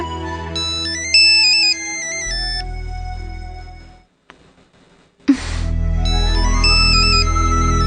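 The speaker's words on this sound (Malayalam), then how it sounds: "ഫോൺ." A telephone plays a melodic electronic ringtone in a domestic family drama, loud and close. It cuts off briefly into near silence, then starts ringing again.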